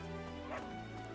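A dog barks in the video game Fire Emblem Three Houses, one short yip-like bark over steady game music.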